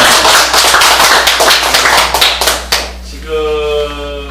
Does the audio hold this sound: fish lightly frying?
no